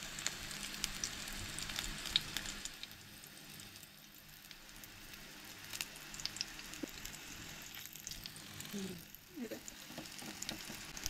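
Mackerel cutlets coated in rice flour fry on a hot tawa, giving a steady, close sizzle and crackle that runs throughout, with faint stirring or pressing noises and no talking.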